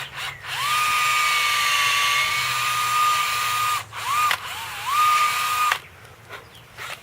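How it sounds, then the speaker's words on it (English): A power drill bores an injection hole into a tree for a microinjection insecticide capsule, whining at steady high pitch for several seconds, pausing, then restarting in short bursts before stopping, close and loud with no talk. "Drill my hole."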